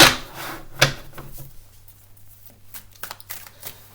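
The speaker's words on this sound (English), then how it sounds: "I'll just pull a few cards here" Cards being shuffled and pulled from a deck in a few quick riffling bursts, close and crisp, followed by faint handling noises.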